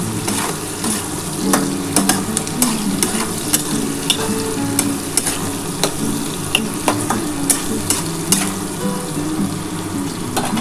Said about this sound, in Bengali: এবার এটা ভালো করে একটুখানি এই নুন হলুদটার সাথে আলুটা ভেজে নিয়ে